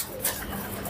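A brief, soft coo from a Tamde pigeon close by against a low background hum.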